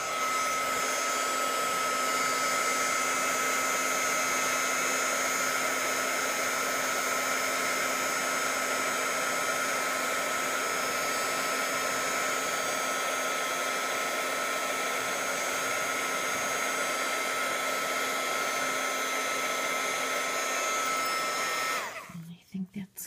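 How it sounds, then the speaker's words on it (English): Heat embossing tool blowing a steady, loud whoosh over Blushing Bride embossing powder on an Easter card, a continuous hairdryer-like roar for over twenty seconds that cuts off abruptly near the end. "we're going to heat emboss this to brighten it up a little bit"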